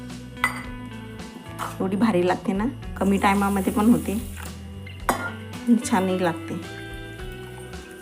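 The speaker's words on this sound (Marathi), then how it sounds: "2 ते 3 पाण्याने हा तांदूळ स्वच्छ धुवून घ्यायचा" A large bowl of rice rinsed in water, with metallic clinks and watery swishing in bursts, close by and under steady talking.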